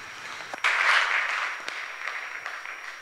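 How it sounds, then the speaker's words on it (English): Brief round of applause from an audience at a documentary school presentation in Barcelona, starting suddenly, swelling for about a second and then fading into scattered claps and room noise. "So a round of applause for María, please."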